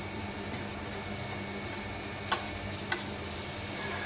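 Spice paste of onion, ground cumin, ginger paste and whole garlic cloves fries in a pan for mutton kasha, giving a steady close sizzle with two brief clicks of a stirring utensil and no talking.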